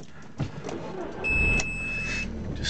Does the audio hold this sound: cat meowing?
no